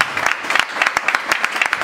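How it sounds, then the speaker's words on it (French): Guests applaud the newlyweds at a civil wedding ceremony: a steady patter of many hands clapping close by for a couple of seconds, with individual claps standing out in a loose, quick rhythm. "nous allons devoir applaudir très très fort pour les mariés"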